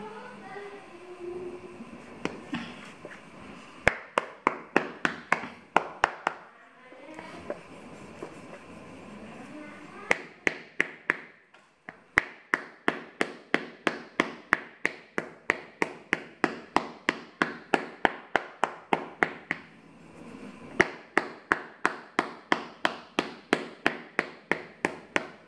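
Nails hammered into a high-heel sandal under construction, a long run of sharp, close metallic taps in quick bursts with brief pauses between series, over a faint steady background hum.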